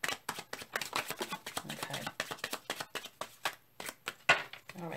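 A tarot deck is shuffled during a love reading: a steady run of quick, crisp card flicks and riffles, close and fairly soft, continuing without pause throughout.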